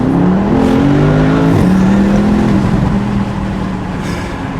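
A 2020 Porsche Panamera accelerates hard, its engine note rising steadily through the gears with a shift near the middle, loud and close from inside the car with no talking.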